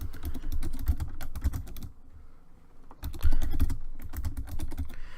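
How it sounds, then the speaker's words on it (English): Rapid typing on a computer keyboard while a ProPresenter 4 slide is being made, dense bursts of close key clicks with a short pause in the middle before the clatter resumes. "So we're gonna start typing."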